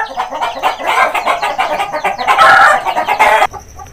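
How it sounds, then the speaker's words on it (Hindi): Aseel roosters shut in a cage room cluck repeatedly in loud, overlapping bursts, with a louder crow-like call partway through before the noise cuts off sharply. "ये जो कमरा है इसमें बड़े मुर्गे वो बंद है।"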